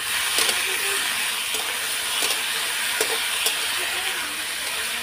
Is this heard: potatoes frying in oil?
yes